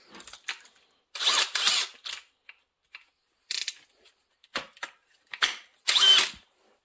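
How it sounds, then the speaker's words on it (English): Short bursts of a brushless cordless drill on speed one honing a Nikasil two-stroke cylinder, several quick whirring pulses with brief pauses between, close by and fairly loud. "Okay, I'm going to put my drill on speed one."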